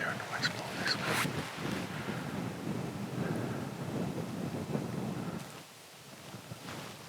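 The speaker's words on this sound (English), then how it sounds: "Wind's pretty good. It's coming." Wind gusts steadily across the microphone outdoors during an elk hunt in Montana, a continuous rumbling roar that eases near the end.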